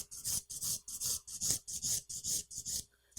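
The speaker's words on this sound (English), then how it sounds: "file the top of the nail, bevel down on the side, across the top, down on the other side" Quiet, steady rasping of a nail file across an acrylic nail, about a dozen short even strokes in a regular back-and-forth rhythm, close up with no talking.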